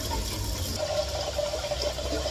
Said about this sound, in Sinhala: මෙච්චර ප්‍රමාණයක් තමයි වතුර දාගත්තේ